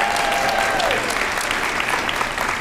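An audience at a motivational talk bursts into loud, sustained applause and cheering, dense clapping filling the room throughout, with a brief whistle near the start.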